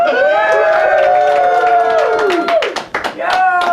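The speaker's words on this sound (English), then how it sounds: "we got a rowdy crowd today" A rowdy crowd at the 30th annual Turkey Bowl football game in New Jersey claps and cheers loudly and steadily, with voices shouting over the noise.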